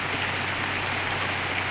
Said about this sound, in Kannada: ಸೋನೆ ಬಂತು, ಸೋನೆ ಬರ್ತೈತೆ ಮಳೆ